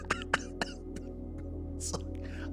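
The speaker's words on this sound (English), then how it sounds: "I keep coughing today" A few short, sharp coughs come in quick succession near the start, followed by a softer one and a throat-clearing rasp.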